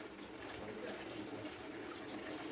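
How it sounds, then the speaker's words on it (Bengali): Water pours steadily into a pot of rice for prawn pulao, a continuous close rushing splash with no break. "আমি 6 কাপ জল দেবো।"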